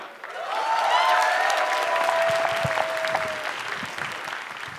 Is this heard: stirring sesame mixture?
no